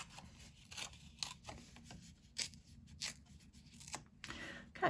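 Paper being torn by hand to make a wide, distressed, worn edge on a handmade birthday card. Several short, crisp rips come in quick bursts at close range, with soft desk handling between them.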